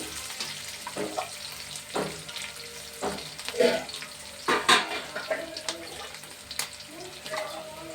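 Onions frying in a pan, a steady crackling sizzle broken by several louder clatters and scrapes of stirring, close and fairly loud with no talking.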